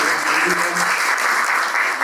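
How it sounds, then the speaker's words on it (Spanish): Applause from the audience at a literary talk welcomes the writer Julián López, a full, even wash of clapping that stays loud and steady throughout, with a faint voice murmuring underneath. "quiero pedir un aplauso a Julián López"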